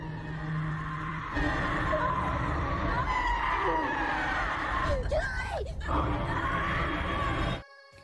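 Shrill screams rise over a loud, rumbling background, with a muffled voice underneath before the sound cuts off abruptly.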